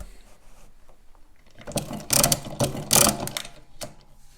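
A Brunsviga pinwheel mechanical calculator being cranked and cleared, its carriage wing nuts spun around, giving a run of close ratcheting clicks and gear rattles that swell in loud bursts after a quieter start.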